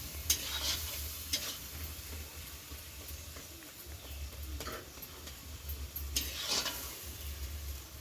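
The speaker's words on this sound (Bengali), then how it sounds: "আলুর ঢাকা ভাজা দিয়ে দেবো।" Potatoes fry in a pan during a stormy evening, with soft, rhythmic stirring and scraping bursts recurring every second or two over a low hum and faint sizzle, fairly quiet overall.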